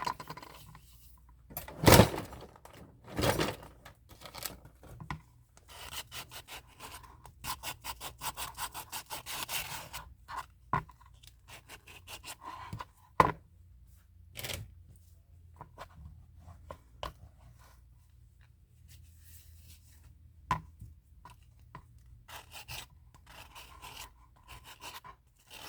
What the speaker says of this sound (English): I am deburring this.